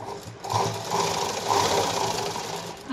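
A sewing machine runs steadily, stitching the shoulder seam of a 32-size katori blouse, its motor hum and needle rattle close and continuous with slight surges in speed.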